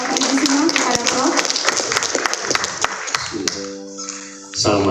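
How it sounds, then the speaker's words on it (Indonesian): An audience claps for Professor Sutanto as he is welcomed to the stage at a public lecture, a dense patter of applause that runs for several seconds under a speaking voice and fades near the end. "Tepuk tangan dulu untuk Bapak Ibu semua kepada Prof."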